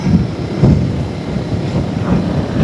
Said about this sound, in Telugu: గాలి అయితే ఫుల్ వస్తుంది